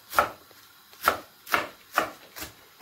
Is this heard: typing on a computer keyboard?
no